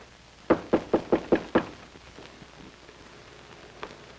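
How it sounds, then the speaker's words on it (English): A door is struck with six quick, evenly spaced knocks in a 1954 television drama, close and firm, followed by quiet and one faint later tap. "Isn't that someone at the door?"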